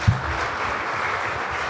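A church congregation applauds for the Lord in a short, steady burst of dense clapping that fills the space at even loudness.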